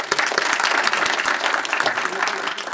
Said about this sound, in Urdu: تو میں آپ کے لیے سب سے پہلے تالی بجاتا ہوں